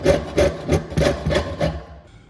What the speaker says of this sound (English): continue sawing in the new direction